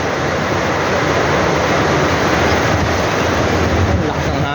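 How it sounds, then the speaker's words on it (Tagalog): Strong wind buffets the microphone in a steady roar while waves surge along the seashore near an old clubhouse, a dense broadband rush with no pauses throughout. "Ang lakas ng hangin, oh."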